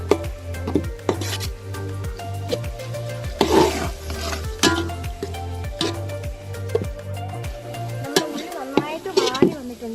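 Onions, ginger, garlic and slit green chilli fry in a pan with a steady low sizzle, broken by repeated scraping and clanking of a spoon against the metal.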